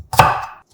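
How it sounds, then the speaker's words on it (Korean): A single knife chop through onion and new garlic, one crisp cut landing on a board, close and loud and then fading out. "햇마늘 25개도 적당한 크기로 잘라"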